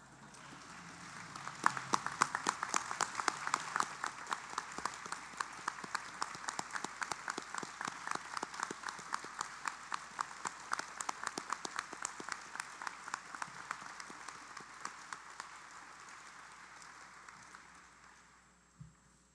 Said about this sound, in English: everyone else gets up out of their chairs and claps for a bit